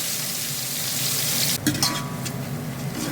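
Cumin powder and onion fry in a pan of oil for a large-batch chicken curry, a dense, loud continuous sizzle that surges briefly midway as the onion goes in, with a few utensil clinks after.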